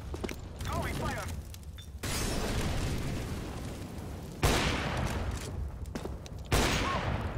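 An incendiary grenade is thrown on the Dust2 map in Counter-Strike, with a steady roaring hiss of burning and heavy bursts around it, loud and continuous, mixed with other game noise.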